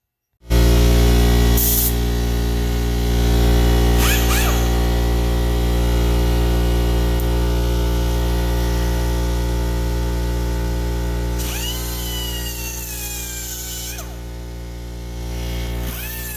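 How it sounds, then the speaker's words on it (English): A cut-off wheel grinds through part of a 1971 C10 door hinge with a loud, steady high-pitched whine, close up and continuous, the pitch dipping slightly as the wheel bites into the metal. "We'll cut off with a cut-off wheel."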